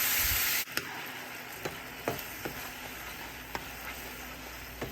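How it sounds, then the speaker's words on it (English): Water poured into a hot pan and stirred into gravy, a steady loud sizzle that begins with a sharp burst and settles into continuous hissing, punctuated by a few soft clicks of a utensil scraping the pan. "Now you're going to slowly add a little bit of water."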